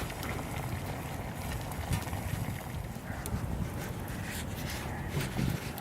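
Water boils on an Outon camp stove during a blizzard, a quiet continuous bubbling and rumbling roil heard close up, faint and steady, with no one talking.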